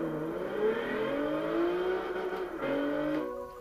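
A Volkswagen Golf IV R32 engine in Gran Turismo 6 revs and climbs through gears with whining, rising pitch, a brief dip as it shifts, steady and up close throughout.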